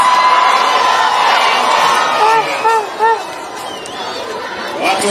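A crowd in Laikipia, Kenya, cheers and whoops to welcome the president, loud overlapping voices and chatter with a few rising shouts.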